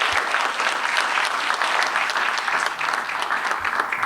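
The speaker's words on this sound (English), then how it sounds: "Let's give them one more round of applause." Steady, dense applause from a school ceremony audience honoring Students of the Month and seal of biliteracy recipients, a full room clapping evenly and continuously with no talk over it.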